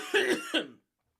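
Two quick, harsh coughs in close succession, close and fairly loud, followed by silence.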